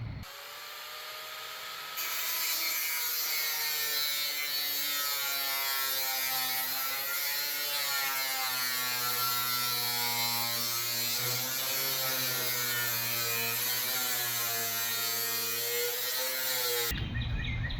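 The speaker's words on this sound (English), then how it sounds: "The easiest way to get this off is to cut it and then come back and grind the edge and then slip that off." An angle grinder whines loudly and continuously as it cuts and grinds a folded metal edge on a 1963 VW single cab truck, its pitch wavering under load before stopping abruptly.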